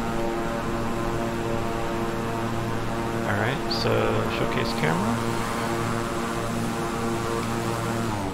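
A twin-engine King Air 350i turboprop in Microsoft Flight Simulator drones with a steady propeller hum and tonal whine, while someone talks briefly over it.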